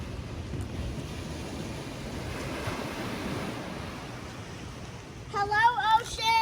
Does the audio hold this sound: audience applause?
no